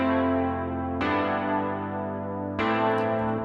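Roland MKS20 or MKS80 synth emulation playing sustained, rich chords with two new attacks, bright and full, ringing on its own without any voices.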